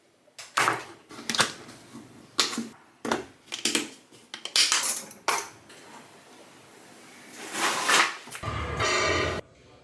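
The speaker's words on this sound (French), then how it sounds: "On fait la vaisselle et on y va." Plates, pots and cutlery clatter and clink while dishes are washed at home, a run of sharp irregular knocks and scrapes, fairly close, with a longer rushing burst near the end.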